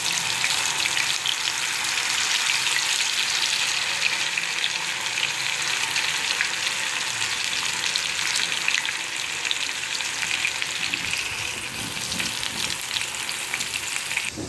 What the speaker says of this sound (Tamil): இப்போ எண்ணெயில் போட்டுடலாம்.